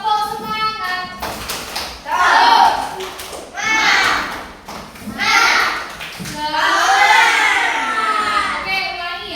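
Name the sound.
children clapping a rhythmic clap chant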